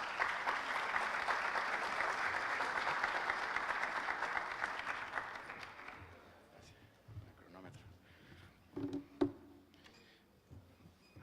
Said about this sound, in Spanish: Un fuerte aplauso para el doctor Ramírez.